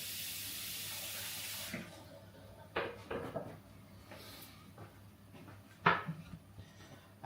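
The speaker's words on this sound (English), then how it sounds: "Just going to rinse this off quickly so it's not quite as sticky" Tap water gushing into a sink for a couple of seconds, then stopping, followed by faint clinks and handling sounds of something being rinsed in a kitchen.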